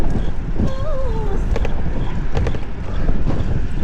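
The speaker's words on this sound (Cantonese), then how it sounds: "哇！ 好大風喎，大哥！" Strong wind buffets a microphone during a bicycle ride, a loud continuous low rumble and roar with faint whistling tones and occasional clicks from the bike.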